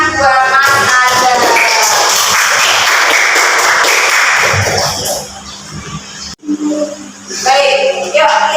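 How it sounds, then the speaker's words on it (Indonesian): Classroom applause for a participant named Mas Azhar, a dense burst of clapping from a group that fills the first five seconds, fades out, then returns briefly after a pause. "Tepuk tangan buat Mas Azhar"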